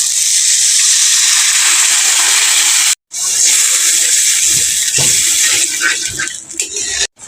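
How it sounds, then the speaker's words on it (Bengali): Water poured onto fried spice masala in a pan for a pabda fish curry with eggplant sends up a loud, sustained hiss and rush, breaking briefly, then returning and tapering into bubbling sizzle. "এখন আমি এর উপর দিয়ে দেবো সামান্য পরিমাণ জল"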